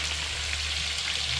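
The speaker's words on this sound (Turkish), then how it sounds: "Kızartmaya bir et attım." Meat sizzles steadily in a hot pan, a constant crackling hiss with no pauses and no voices.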